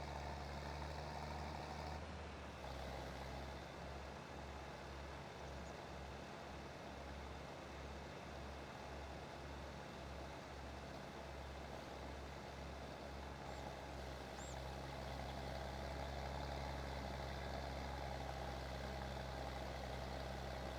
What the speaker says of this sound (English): Come on, tractor, go.